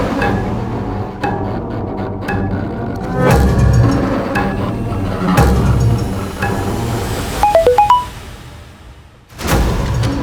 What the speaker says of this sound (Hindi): किसका मोबाइल बजा?